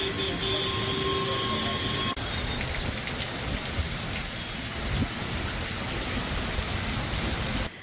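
Heavy monsoon-style downpour in Jharkhand, a dense steady roar of rain with a faint tonal hum early on and a possible soft rumble, continuous throughout.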